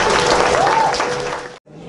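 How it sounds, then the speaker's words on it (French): Applause from an audience at a Haitian cultural night, a dense, steady wash of clapping that runs loud for most of the moment, cuts off abruptly, then resumes more faintly. "On applaudit Dani encore une fois, s'il vous plaît."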